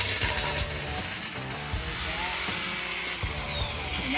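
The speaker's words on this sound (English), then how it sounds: "you're going to hear the little excess clip off on this little blade right here" A DeWalt 20V XR cordless string trimmer on its high setting whirs at a high, steady buzz with a rattling, clicking edge as excess line is clipped by its blade, loud and close.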